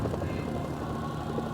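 Helicopter rotor chop in the video game Mercenaries: Playground of Destruction, a steady, loud, dense whirring drone that holds without letup.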